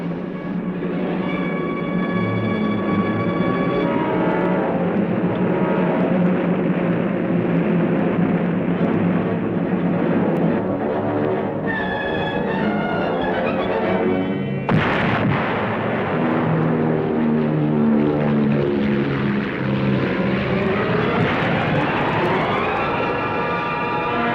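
WWII warplanes bombing and strafing at Iwo Jima in 1945 footage: a loud, continuous roar of aircraft engines with rumbling blasts, shifting tones and a sudden sharp impact midway, all without speech.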